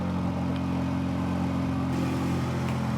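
A Honda Integra GSR fitted with a new eBay exhaust idles and revs close by, a continuous mid-pitched engine rumble with a slight shift in tone partway through.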